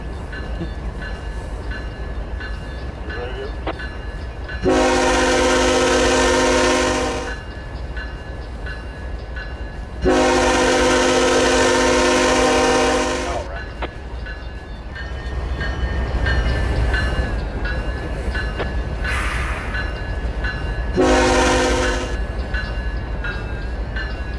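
A CSX train in the Trainz railroad simulator sounds three loud horn blasts, two long and one short, over a steady rumble of rolling rail cars.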